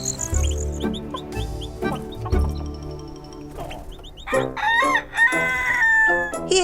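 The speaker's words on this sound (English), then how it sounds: "Rusty the rooster woke up with the sun." Rusty the rooster, waking at sunrise after a night on a tree branch, crows in a series of loud, drawn-out calls with short gaps between them, followed by a busier stretch of voice-like calls near the end.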